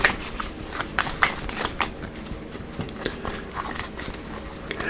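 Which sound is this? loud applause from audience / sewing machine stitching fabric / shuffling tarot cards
shuffling tarot cards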